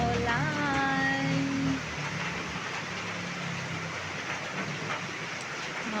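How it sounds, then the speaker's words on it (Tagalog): Steady rain falls in a continuous dense hiss during cold, wet weather, with a brief low tonal hum fading out early on. "Anong oras to tigil ang ulan?"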